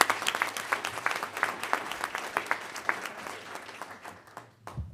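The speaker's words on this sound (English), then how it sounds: "How about a round of applause for these?" Audience applauds graduates at a Board of Trustees meeting: a few seconds of moderate, fairly sparse clapping from a modest crowd, tapering off at the end.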